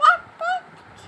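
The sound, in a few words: child imitating a duck's quack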